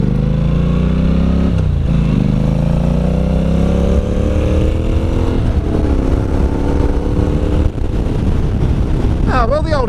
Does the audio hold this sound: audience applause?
no